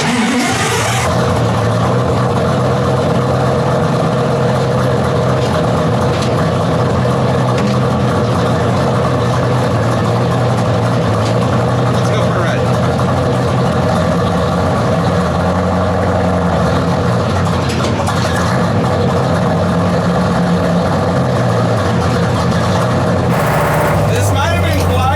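'69 Dodge Daytona clone, abandoned for decades, idles loud and rough with a steady low rumble, running throughout while people talk nearby.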